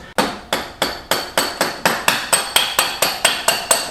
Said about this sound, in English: Now I'm just going to tap this axle through the same way I did before.